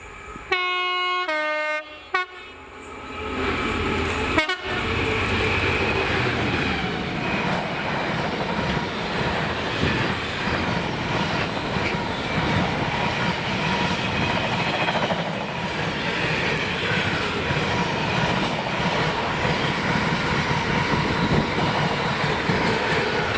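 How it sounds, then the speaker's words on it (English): A freight train hauled by Class 66 locomotive 66520 runs on a Scottish line from Coatbridge to Crewe Basford Hall. A short horn blast opens, then a loud, steady rumble and clatter of passing wagons carries on unbroken to the end. "Then would be 4M11, the 1808 Coatbridge to Crewe Basford Hall, passing at 2026 with 66-520."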